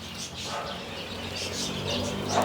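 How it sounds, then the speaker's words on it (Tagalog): A blue-naped parrot in an aviary gives a few harsh, scratchy calls at intervals over steady background noise, heard from a moderate distance. "Meron din tayo ditong Blue Knee Parrot, ano, na turn over din sa atin."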